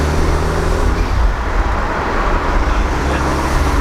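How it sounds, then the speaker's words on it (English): Steady engine and exhaust drone from inside an F30 BMW 330i with an aftermarket exhaust, with a broad rushing whoosh of turbo spool as it accelerates; no talking. "This car spool is so nice."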